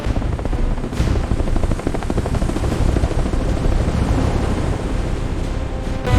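A military helicopter airlifts Kong, heard as a continuous loud rotor roar with gusty, wind-like rumble throughout, close and unbroken.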